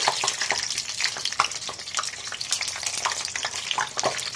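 Food frying in a pan while being browned, a steady crackling sizzle with small sharp pops scattered throughout, close and continuous with no talk.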